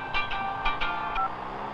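A phone keypad being dialed: about five short electronic tones beep in quick, slightly uneven succession at close range over a quiet room background.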